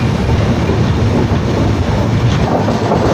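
Hussain Sagar Express passenger train hauled by a twin WDG4 locomotive, a steady loud rumbling roar of running on the rails, continuous and close throughout.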